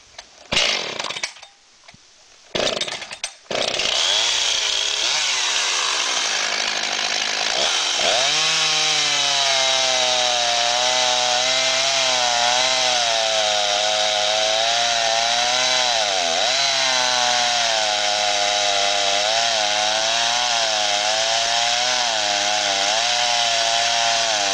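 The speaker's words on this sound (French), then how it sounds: "et je pars ma scie à chaîne." A chainsaw cutting through a log held on a LogRite log stand beside a lake, starting with a few sputtering pulls and revs, then running loud and steady close by for a long continuous cut with slight pitch dips as it bites.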